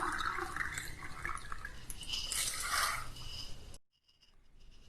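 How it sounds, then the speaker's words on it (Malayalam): Water pours steadily into a soup pot for a Kerala hot and sour chicken corn soup, a continuous rushing splash lasting several seconds, then it stops abruptly into near silence with faint drips. "ഇനി നമുക്ക് ഇതിലേക്കൊരു 4 ഗ്ലാസ് വെള്ളം ഒഴിച്ചു കൊടുക്കാം"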